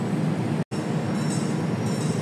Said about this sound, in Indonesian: Karena kereta api Argo Wilis itu juga kecepatan maksimalnya 120 km per jam. Jadi nanti lewat sini ngebut juga.